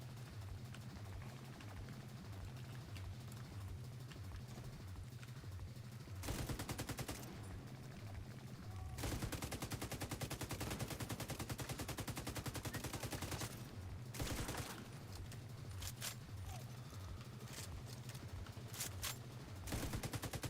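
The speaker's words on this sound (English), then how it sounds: "Who are you shooting at over there?" Gunfire in the video game Division 2 plays as rapid automatic bursts in several clusters. It sits over a steady low droning game background and stays fairly faint and distant throughout.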